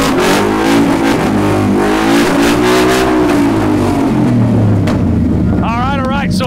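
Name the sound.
Ford F100 truck 785 horsepower engine revving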